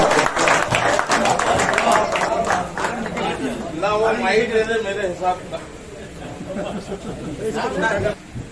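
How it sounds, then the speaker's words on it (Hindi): An audience at a mushaira, a Hindu-Muslim unity poetry gathering in Bhusawal, bursts into applause and cheering to welcome a poet, loud clapping and crowd chatter rising then easing, with voices calling out over it. "जोरदार तालियों में इस्तकबाल कीजिए मोहतरम शकील हसरत"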